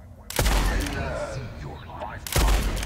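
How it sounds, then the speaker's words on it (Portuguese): Gunfire in the video game Blood West: two loud, sharp gunshots about two seconds apart, with a voice speaking over the game sounds between them. "Passou pelo ouvido do cara o tiro."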